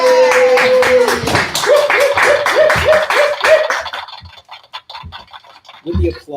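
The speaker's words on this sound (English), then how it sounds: "With the applause machine." An applause machine plays a burst of rapid, bright clapping that fades after a few seconds, with a tone running under its start and a voice speaking as it tails off.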